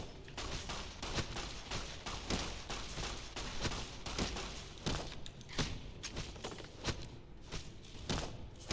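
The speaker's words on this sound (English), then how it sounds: "Stop shooting that gun." Video game gunfire in Fallout: New Vegas comes as a fast string of sharp shots, repeated bursts spread across about nine seconds, fairly quiet and without talk.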